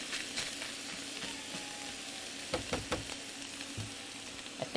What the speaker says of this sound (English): Love this sound. The sizzles.